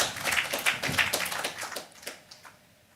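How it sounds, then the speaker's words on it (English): Conference audience applauding as a speaker walks up at an international bar association event in Lagos, a burst of many hands clapping that thins out and fades to a few scattered claps. "Please a round of applause as she comes up."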